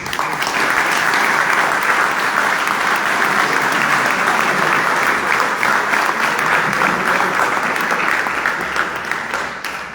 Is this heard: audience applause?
yes